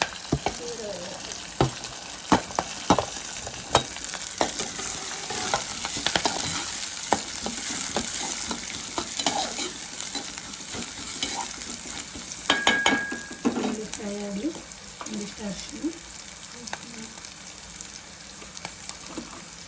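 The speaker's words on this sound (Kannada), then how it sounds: "ಈರುಳ್ಳಿ ಹಾಕ್ತೀನಿ" Onions frying in a pan and being stirred for beetroot rice, a close crackling sizzle broken by repeated sharp scrapes and clinks of a spoon against the pan, with no talk.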